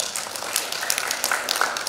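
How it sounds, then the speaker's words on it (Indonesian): Crowd applause for assembled legislative candidates at a public gathering, a soft, steady patter of many hands clapping at moderate distance, without speech. "Tepuk tangan buat kita semua."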